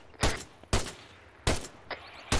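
Gunfire in ARMA 3 during a fight: four or five distinct, moderately distant gunshots spaced irregularly, each a sharp crack with a short tail, plus a fainter shot between them.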